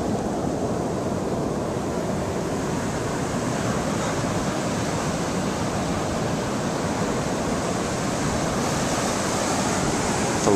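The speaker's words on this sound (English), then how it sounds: "Here comes the wall of water." A large ocean wave crashing and rushing in, a dense continuous roar of surf and wind noise close to the microphone, holding steady without pause.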